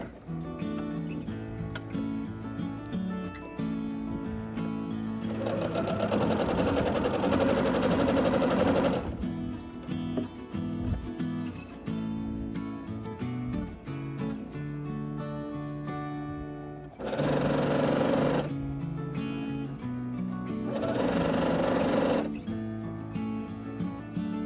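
A sewing machine stitches a child's prairie bonnet close to the fabric edge, running in several sustained bursts of steady, busy whirring with brief pauses between them, fairly close and alone.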